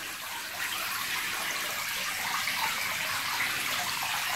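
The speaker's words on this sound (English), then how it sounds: "this is water entering into the hatchery from the reservoir" Water dropping from a reservoir into a fish hatchery, a continuous close splashing rush with no pauses across the whole span.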